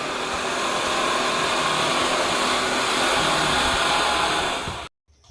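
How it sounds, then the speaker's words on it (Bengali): A sewing machine runs with a steady, loud motor whir for about five seconds and then cuts off abruptly into near silence. "এইগুলো নিয়েই আমি এখন সেলাই করবো এই মেশিনটাতেই আমি সেলাই করি"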